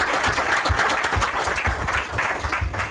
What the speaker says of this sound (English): So we give a round of applause for Danny.